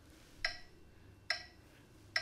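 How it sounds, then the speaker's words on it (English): Three crisp, bright electronic clicks from the Pro Metronome app, spaced evenly about 0.85 seconds apart and fairly quiet against a low background hum, with no other sound between them. "So I like to use an app called Pro Metronome."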